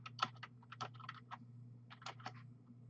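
Quiet, close computer keyboard typing in irregular bursts of keystrokes over a steady low electrical hum, no talking.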